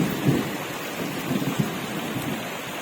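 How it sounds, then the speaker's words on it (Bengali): Steady heavy rain hissing on surfaces, with a couple of low thunder rumbles rolling underneath. "দেখতেই পাচ্ছ কেমন ঝরঝর করে বৃষ্টি পড়ছে, তার সাথে মেঘের গর্জন"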